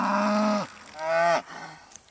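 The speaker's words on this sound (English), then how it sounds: "They'll go along the fence and stand and bawl for quite a while" Cows bawling along a pasture fence during fenceline weaning, separated from their calves: two loud, drawn-out moos, each about half a second long, with a brief fainter call trailing after.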